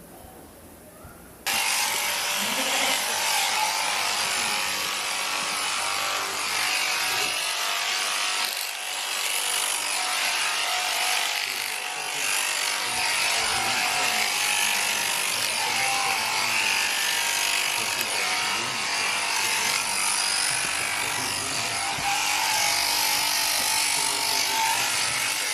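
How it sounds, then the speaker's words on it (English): Electric shears cutting through sheep wool, a continuous close buzzing and rasping hum that starts abruptly and runs steadily, with slight shifts in tone as the blades move. "I will show you a video of shearing."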